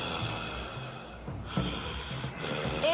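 A voice imitates a raspy, wheezing gasp, a few rough breathy inhalations in quick succession, close and fairly loud.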